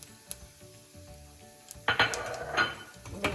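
Curry leaves hit hot oil already holding cumin and mustard seeds in a vada pav preparation; a quiet pan suddenly bursts into crackling sizzle about two seconds in, with faint stirring clinks.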